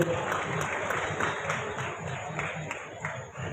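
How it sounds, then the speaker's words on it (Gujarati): Audience applause at a free mass wedding ceremony for all communities, with a chief minister attending: a dense, steady wash of many hands clapping at once, loud and continuous throughout, with faint voices underneath. "તાળીઓથી વધાવી લઈએ"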